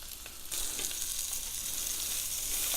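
Italian sausage crisps in a hot pan, a steady close sizzle that swells after a brief quieter start and keeps frying evenly with faint crackles.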